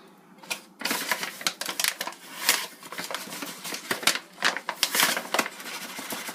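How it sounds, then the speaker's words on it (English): A paper bag of all-purpose flour crinkles and rustles up close in a kitchen, a string of sharp, irregular crackles and crunches with no talking. "Hopefully this bag is not really loud."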